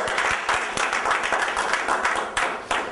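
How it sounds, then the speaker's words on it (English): Audience clapping, a brief burst of applause from a small crowd, with irregular sharp claps continuing at a moderate level throughout. "Why don't you give yourself a round of applause?"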